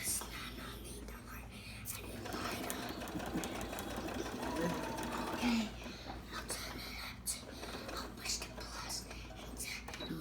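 Vintage sewing machine stitching quilt blocks, running steadily with back stitching, its mechanical whir close and continuous while a person whispers and talks quietly over it.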